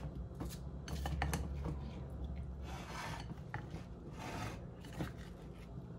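Ingredients for crockpot pork chops being mixed in a bowl, giving quiet scraping and rubbing strokes in an irregular rhythm, faint and close with no talk.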